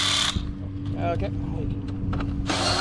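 A power tool tightens the bolts on a Can-Am Ryker during a CVT transmission belt replacement. Two loud bursts of the tool open and close the clip, and a constant low hum and some speech fill the gap between them.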